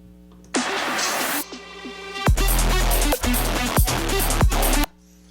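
Synthesized supercharger engine sound with a high whine and dense harmonics, followed by several loud low-end pulses that drop out and surge back, then a sudden cutoff.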